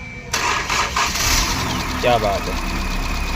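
A petrol Maruti Eeco van engine cranks and catches, then settles into a steady idle close by while someone speaks over it.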